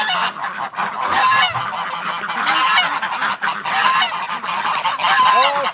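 Geese honk over and over in loud, overlapping calls from a close flock kept alongside hatching duck and goose eggs, with no talking.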